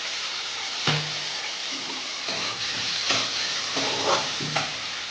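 Chopped tomato frying in a pan for a rui fish and jackfruit dish, a continuous hissing sizzle broken by repeated short spatula scrapes and taps at an irregular pace, close and without talk.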